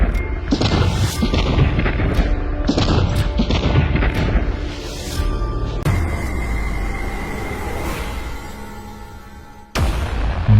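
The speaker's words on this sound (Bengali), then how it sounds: "এরপরে ব্রাশ ফায়ার।" A burst of automatic gunfire rings out in loud, sharp repeated cracks with echoing tails, followed by a long rumbling boom and a sudden loud hit near the end.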